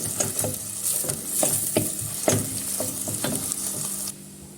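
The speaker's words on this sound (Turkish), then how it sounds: "salçamı da ilave yaparak soğanımla beraber kavurmaya devam ediyorum" Onion and tomato paste sizzle steadily in a hot pan for lentil soup while a spoon scrapes and stirs in an irregular rhythm, then the sizzling suddenly drops away.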